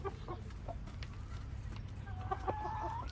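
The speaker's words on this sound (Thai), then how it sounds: "ก็เป็นไก่เขา สายพันธุ์เหลืองหางขาวเนี่ยเป็นไก่ที่พัฒนามาจาก ไก่ที่เราใช้ในสนามนี่แหละนะครับ" Yellow white-tailed chickens, a breed developed from fighting cocks, cluck in short, scattered bursts over a low steady background hum, fairly close.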